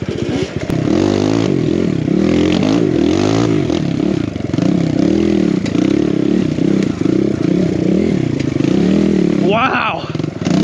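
A dirt bike fitted with a big bore kit is ridden along a trail. Its close, loud engine rises and falls in repeated revs, with clattering and scraping from the ride and a brief gust of noise near the end.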